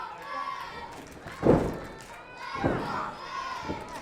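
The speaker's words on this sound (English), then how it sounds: "McCoy floors him with a huge elbow strike" Heavyweight wrestler floored by a big elbow strike, the body slamming onto the ring mat: one loud heavy thud stands out, then two softer thumps follow, with commentary talk and crowd noise running throughout.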